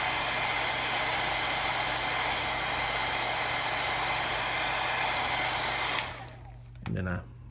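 A heat gun blows a steady, loud roar of hot air onto a 1931 RCA Superette R7 radio cabinet part being bent. It cuts off abruptly near the end, followed by a brief handling noise.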